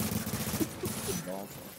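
Video game gunfire, rapid automatic shots overlapping with loud game effects, dense and continuous for a couple of seconds, with a voice speaking over parts of it.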